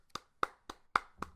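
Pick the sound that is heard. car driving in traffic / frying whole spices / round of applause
round of applause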